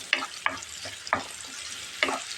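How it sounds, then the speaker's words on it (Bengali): Chopped onions frying in oil, bright continuous sizzle broken by four or five crisp spatula scrapes and stirs at an uneven pace, close up and alone. "তেল দিয়ে কিছুটা পেঁয়াজ দিয়েছি"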